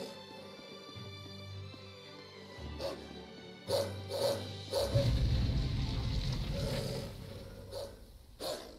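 A dog barks several times in short bursts, moderately close, over a quiet background with a low mechanical hum.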